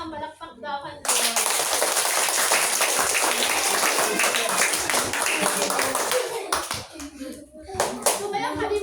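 Children clap their hands together at a children's feeding-program gathering, a loud, dense burst of many small hands starting abruptly and fading near the end, with kids' voices and talk mixed in.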